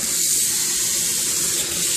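Water streams steadily from a kitchen faucet with hot and cold taps, a close, even rush without pauses or voices.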